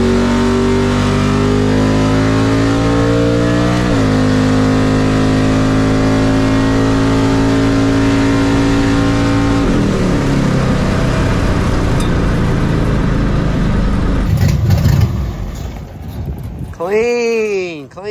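A ZZ632 big-block shop truck at a drag strip holds a loud, sustained high-rev burnout, its engine note stepping up in pitch before dropping off, with voices talking over it and a passing high whine near the end.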